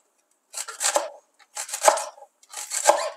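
A knife finely chops green onions on a cutting board in three quick bursts of crisp, rapid knocks, close and clear, separated by short silent pauses.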